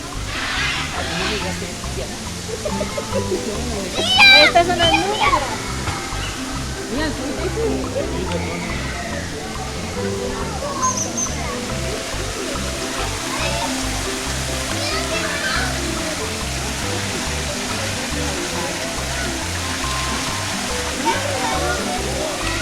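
A steady rushing waterfall beside a hillside path at IRTRA Mundo Petapa theme park in Guatemala City fills the scene continuously, with faint children's voices and a few splashes in the background.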